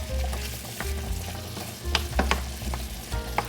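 Meat for spaghetti sauce cooks in a pan over medium-high heat, a steady soft sizzle with occasional clicks and scrapes of a utensil.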